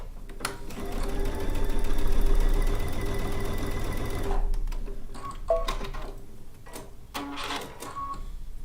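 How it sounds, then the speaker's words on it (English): A sewing machine at a studio sew day runs steadily for about four seconds, stitching two pieces of fabric together, then stops, leaving light handling and rustling sounds. "Those 2 get sewn together."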